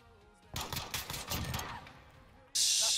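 Pistol gunfire in Modern Warfare, a cluster of sharp shots cracking in quick succession, loud and close, then a brief pause before a harsh burst of noise at the end; a voice is faintly present underneath.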